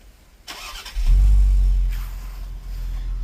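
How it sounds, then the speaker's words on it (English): A 2025 Ford Explorer ST started by remote: a brief crank is followed by a loud low rumble that flares, then settles into a steadier idle, heard up close with no talking. "let's go ahead and start her up"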